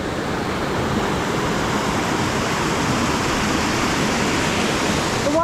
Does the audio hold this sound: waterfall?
yes